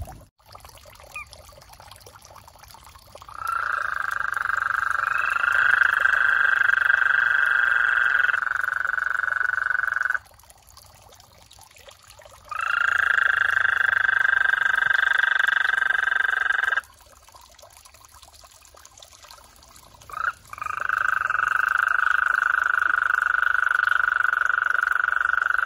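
Toads trill at a backyard breeding pond in long, sustained calls that start and stop in three bouts, close and loud against a quiet night background.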